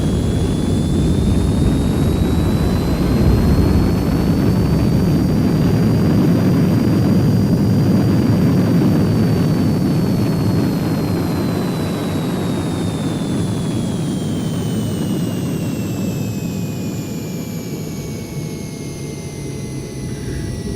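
A Heinkel He 162 jet engine roars steadily on landing approach with the gear down, power rising as it flies low, and a high whistling tone sweeps slowly up and down above the broad, loud rush.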